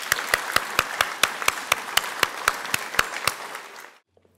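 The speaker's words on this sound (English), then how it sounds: "Please, audience, give our spellers a round of applause." Audience applause for contestants at a school spelling bee comes as a light, sparse patter with about a dozen sharp, evenly spaced claps standing out near the microphone, fading out just before the end.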